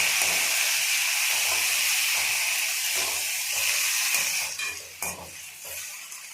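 Tomatoes and curry leaves go into hot oil for a ladies finger curry, giving a loud, continuous close-up sizzle and hiss. Soft stirring scrapes sound underneath, and the sizzle eases slightly toward the end.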